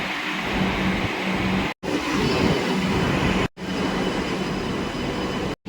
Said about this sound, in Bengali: ছেড়ে দিল আমাদের ট্রেন এই মাঝে মেট্রো স্টেশন থেকে